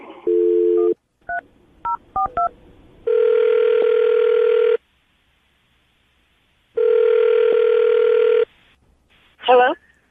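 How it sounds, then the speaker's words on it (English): A telephone dial tone and a quick run of touch-tone dialing beeps, followed by two long ringback tones separated by silence, loud and clear, ending with a brief voice-like sound. "I'm going to dial the phone number"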